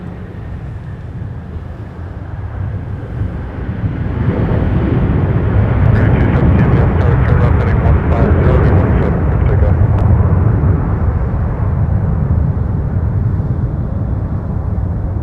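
A Delta airliner arriving from Cancun at Minneapolis airport roars loudly as it passes close by, a broad jet rumble swelling and holding steady without talk.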